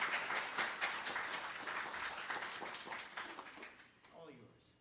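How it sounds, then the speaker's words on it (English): An audience at a health services event claps in sustained applause that gradually fades out, with a few voices audible near the end as it dies down. "Give her a nice round of applause."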